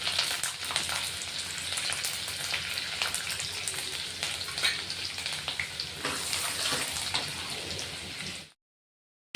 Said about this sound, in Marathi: लसूण चांगले लाल झाले